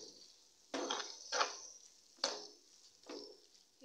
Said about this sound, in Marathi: तर ही भाजी चांगली मिक्स करून घ्यायची